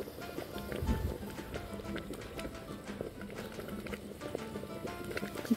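Quicklime being slaked with warm water in a covered container for whitewashing garden trees, giving a faint, irregular bubbling and crackling patter with occasional small pops, fairly quiet and close.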